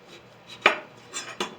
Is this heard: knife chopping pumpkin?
yes